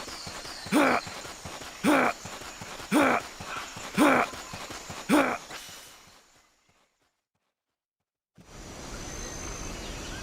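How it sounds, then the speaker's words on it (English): Five evenly spaced footsteps thud in Metal Gear Solid, roughly one per second, loud and close with a scuffing tail. A short silence follows, then low ambient game noise returns. "I just heard footsteps!"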